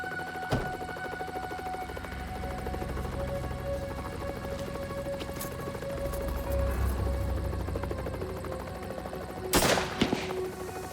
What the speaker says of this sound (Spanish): Dispararon cápsulas de gas lacrimógeno no inflamable hacia el piso superior.